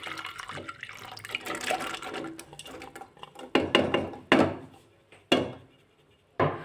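Soaked val beans and their soaking water tipped into a pressure cooker, giving splashing, trickling pours followed by several sharp bursts of water and clunks against the metal pot, close and fairly loud, with no talk.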